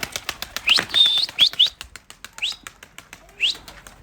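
A motherless pigeon chick flaps its wings on its first flight, giving close, loud bursts of fluttering wingbeats with a few sharp chirps and squeaks from nearby birds mixed in.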